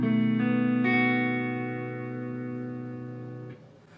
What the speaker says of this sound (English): This is the B7th.